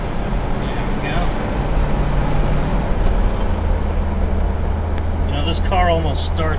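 A 1968 Ford Galaxie 500 engine rumbles steadily at low pitch while driving, with someone talking over it throughout.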